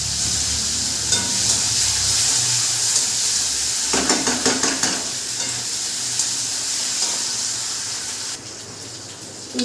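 Tomatoes fry in hot oil with a bay leaf and whole cumin in a pan, a steady loud sizzle and hiss with scraping stir strokes and brief clatters of the spoon, no talking.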